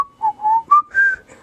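A person whistles in imitation of the Desk Pets TankBot toy's whistle. It runs as four or five short, clear notes that slide up and down, close and fairly loud, with no talking.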